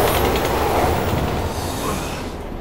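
A train rushes past in the Resident Evil 6 video game, a loud, dense roar of rolling wheels and rumble filling the clip and easing slightly at the end, with no talking over it.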